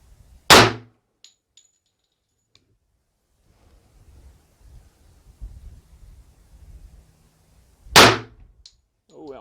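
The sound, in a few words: gunshot firing ARX Inceptor 118 gr bullet from 45 ACP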